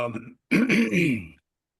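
A person clears their throat twice, a short rasp then a longer rougher one, close by in a quiet room.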